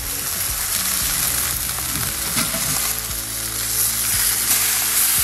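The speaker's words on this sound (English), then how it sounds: "just from fat dripping down onto the embers" Steak sizzles on a Tuscan grill over a bed of wood embers inside a woodfired oven, with fat dripping onto the coals. A loud continuous hiss carries crackles and pops scattered through it.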